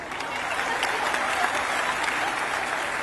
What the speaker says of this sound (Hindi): एक बार जोरदार तालियों से हम पुनः स्वागत करें।